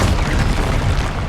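A Confringo fire spell blast in the Hogwarts Legacy video game, a dense, loud, rumbling boom that fills the whole moment without a break.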